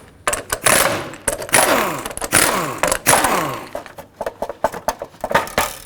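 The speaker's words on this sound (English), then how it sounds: "go ahead and remove the little caps that hold it on with a 19mm socket" A 19mm socket on a power tool spins off the caps holding the hubcap onto the wheel of a 2007-2009 Saturn Aura, in loud, harsh whirring bursts separated by short pauses.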